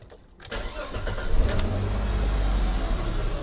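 A hot 1998 Chrysler Cirrus with a low oil pressure warning, after nearly an hour of running, cranks briefly and catches, then settles into a loud, steady idle close by, with no talk.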